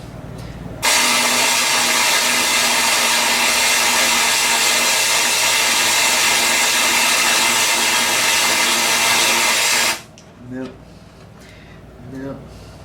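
A vacuum pump pulling vacuum roars with a loud, steady hiss for about nine seconds, then cuts off, leaving a quiet room with a couple of faint bumps.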